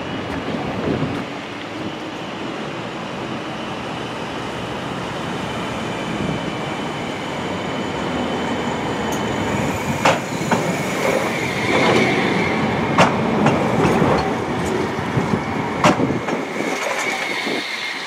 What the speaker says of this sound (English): Comes tram 31.